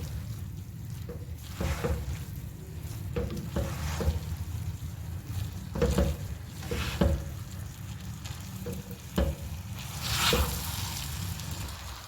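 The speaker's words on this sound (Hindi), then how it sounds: "फिर चावल डालने हैं, मिक्स कर लेना। अभी आपने इनको अच्छे से मिक्स कर लेना।" Rice for sweet zarda (mutanjan) is mixed in a pot, with soft squishing and sizzling under repeated spoon strokes against the pot, close up and steady, and no one speaking.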